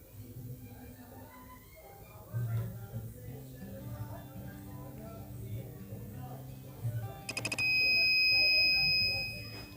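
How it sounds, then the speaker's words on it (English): A water level controller's steady electronic buzzer sounds near the end as the water pump shuts off, a piercing tone lasting a couple of seconds, after background noise with a voice speaking faintly underneath. "The buzzer will buzz and the water pump will get turned off."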